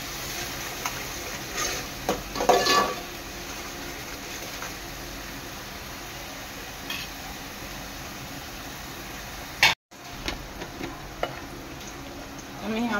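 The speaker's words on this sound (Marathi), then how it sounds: "वाटण चांगलं शिजून घ्यायचं आहे तेलात" Masala paste cooking in oil in a pan for a crab curry, a faint steady sizzle with scattered clicks and a brief louder clatter of stirring.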